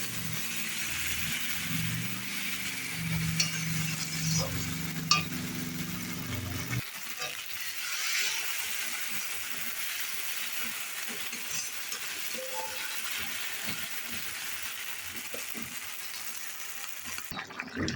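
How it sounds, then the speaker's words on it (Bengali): A spice paste of ginger, garlic, onion and tomato with salt, turmeric, chili and cumin fries in a pan with a continuous soft sizzle, broken by repeated stirring scrapes, while a low rumble runs under the first several seconds. "মশলাটা এখন কষিয়ে নেবো আমি ভালো করে"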